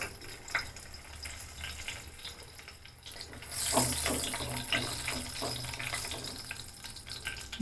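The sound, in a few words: bay leaves and cardamom sizzling in hot oil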